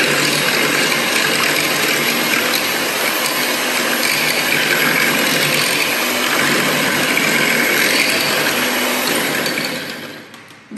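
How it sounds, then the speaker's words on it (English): Vegan chocolate fudge brownie batter whisked in a single bowl: a loud, continuous, close whirring scrape that holds steady and then cuts off near the end, with no voices. "We will give this a nice whisk."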